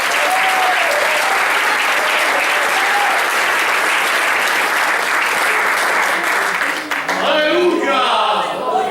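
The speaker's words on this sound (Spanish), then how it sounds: "Denle un fuerte aplauso" Sustained loud applause from a church congregation, dense and steady throughout, with voices and shouts rising over the clapping near the end.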